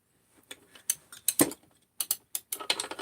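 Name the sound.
ratchet turning on Jonsered 630 chainsaw crankcase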